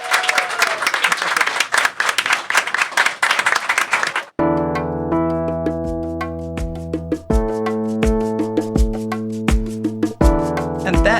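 Audience round of applause at a live DC city podcast taping, loud dense clapping for about four seconds that cuts off abruptly into a bright electronic musical outro with steady rhythmic hits.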